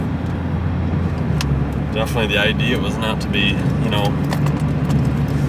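A Mazda ND Miata with a baffleless axle-back exhaust drones low and steady at cruise, with people talking over it inside the car.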